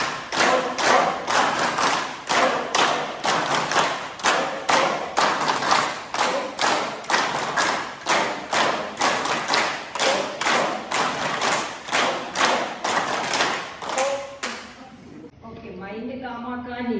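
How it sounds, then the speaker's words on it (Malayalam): A group claps in unison at a yoga session at Indocert, Thottumugham, Aluva, with steady, evenly spaced claps for about fourteen seconds. A voice starts speaking as the clapping stops. "അപ്പൊ നമുക്ക് ക്ലാപ്പ് ചെയ്യാം."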